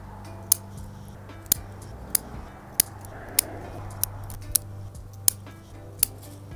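Pruning shears snip back bonsai tree branches, about a dozen crisp close clicks spaced roughly half a second apart over a low steady background hum.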